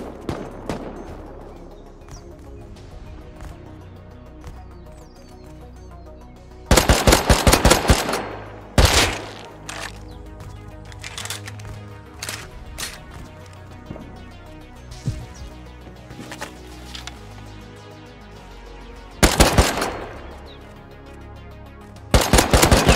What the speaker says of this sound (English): I know that's the AK.